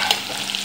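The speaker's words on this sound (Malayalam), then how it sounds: "സവാളയും ചെറിയ ഉള്ളി നല്ലതുപോലെ വഴണ്ട് വരണം." Sliced onions and small shallots sautéing in a pan with curry leaves for chicken chops: a brief burst of dense, loud, hissing sizzle with no voices.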